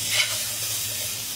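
Carrots and cabbage stirred in a cooking pan over a steady sizzle, with soft scraping strokes audible across a short stretch and no talking.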